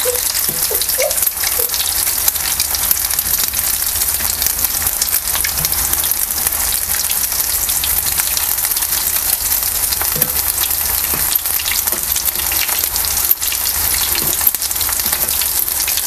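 Food deep-fries in a pan of oil with a loud, dense sizzle that crackles steadily throughout, like heavy rain, with no talking.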